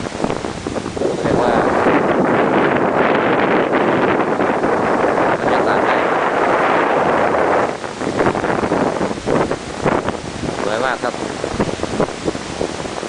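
Wind blowing across a beach on Ko Pling in Sirinat National Park, Phuket, roaring and buffeting against the microphone in strong gusts, with someone talking through it.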